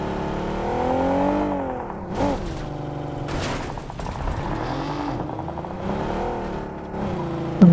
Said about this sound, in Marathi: गाडी आली आमच्यावरती.